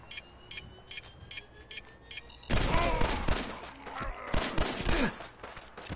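Pistol gunfire in a video game breaks out as a dense burst of sharp cracks after a quiet stretch of faint beeps, then keeps going in irregular loud shots.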